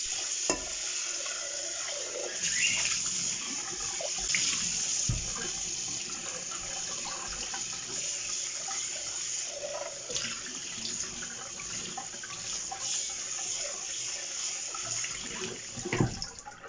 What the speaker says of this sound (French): vous le passez sous l'eau froide jusqu'à bien le refroidir